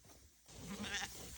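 A single short sheep bleat rises out of quiet farmyard background, fairly close and brief, with a higher wavering cry on top.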